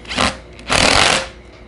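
A Hardinge speed chuck tightens down on a lathe with two short mechanical whirring bursts, the second longer, close and fairly loud.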